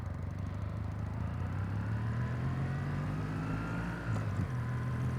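A Kawasaki W800 motorcycle engine drones steadily while riding on the road, a low, even hum with rising pitch under wind noise, fairly quiet and alone with no talk.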